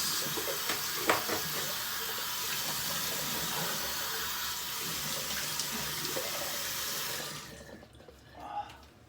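Water from a tap runs steadily into a sink as someone rinses off after shaving, a loud continuous hiss and splash that stops abruptly near the end, followed by a brief small splash.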